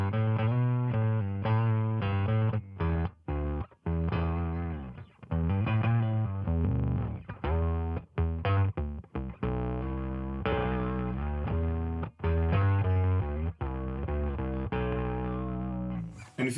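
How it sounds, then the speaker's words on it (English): Electric guitar played through an Electro Harmonix Octave Multiplexer, giving a thick, gnarly, distortion-like octave tone; sustained chords and riffs ring out continuously with brief gaps, loud and close. "almost like a distortion sounding thing"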